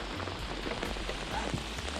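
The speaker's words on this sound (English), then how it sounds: "There is literally a torrential downpour out here." Heavy torrential rain pours down steadily at a lake during a bass fishing outing, a dense, loud hiss of drops drumming on surfaces with no pauses across the whole stretch.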